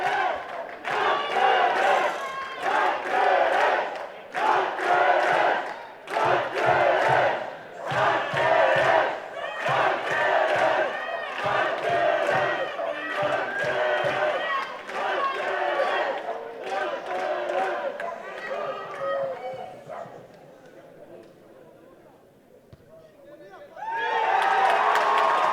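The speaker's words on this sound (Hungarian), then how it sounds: "a nagykőrösi közönség extázisban" Rugby match crowd at Nagykőrös cheering and shouting in ecstasy, loud and sustained in surging waves, with a commentator talking over it.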